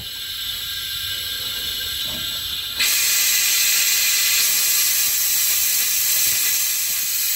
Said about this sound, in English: Connect my pump up to the tank, see if we can suck some fuel out of it.